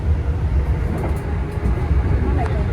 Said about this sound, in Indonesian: untuk deru lokomotif sama suara klaksonnya itu nggak sampai bener-bener berisik banget masuk ke dalam kabin kereta